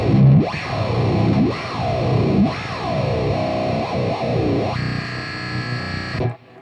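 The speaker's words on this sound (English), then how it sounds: "I'll just kind of hit record, and then I'll just sweep the frequency knob and record it and sample it." An EarthQuaker Devices effects pedal has its frequency knob swept by hand, producing a loud, distorted, chorused tone that rises and falls in repeated swooping arcs before cutting off abruptly.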